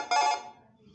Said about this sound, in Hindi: ये वाला बहुत अच्छा रिंगटोन है, चाइल्ड मॉर्निंग